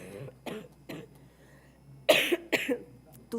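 Two sharp, harsh coughs close to the microphone after a stretch of quiet murmuring during a court plenary session, followed by a brief rough burst.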